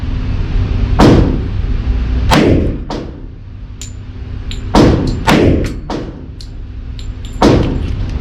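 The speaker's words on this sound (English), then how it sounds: "we'll simulate just a one-handed shot rather quickly if I can" Ruger SR45 .45 pistol fired one-handed outdoors, seven sharp loud shots in an uneven quick sequence, some in close pairs, each with a short echoing tail.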